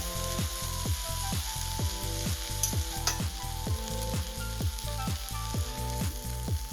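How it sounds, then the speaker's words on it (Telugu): Chicken fries in a pan with a steady, close sizzle that runs without pause, pulsing in a regular rhythm and with no talking. "బాగా ఫ్రై చేసుకోవాలి."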